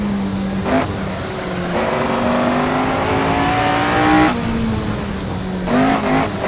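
A race car engine in the Assetto Corsa driving game, racing on a wet track in the rain, revs loudly and steadily climbs through the gears, with brief dips at each shift and a constant roar of road and spray noise.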